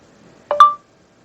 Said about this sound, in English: 1 beep. What would you say to that? 1, then 3 beeps?